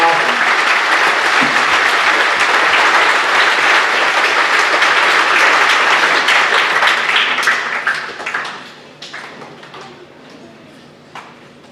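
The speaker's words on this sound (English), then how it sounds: "Let's give them all a round of applause." A school auditorium crowd at a Veteran's Day program claps in a dense, loud, sustained burst of applause that fades out over the last few seconds into scattered individual claps.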